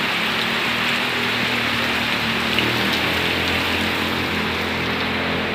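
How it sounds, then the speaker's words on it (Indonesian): Heavy tropical rain pours steadily outside a rice shop, a dense, continuous hiss of drops drumming on surfaces with no pauses. "Hari ini cuaca hujan ya teman-teman tuh. Hujan lebat."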